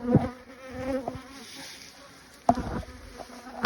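Honey bees buzz around an opened, recently split hive during a colony check, a steady close drone with individual bees passing near, plus a few knocks from handling the boxes.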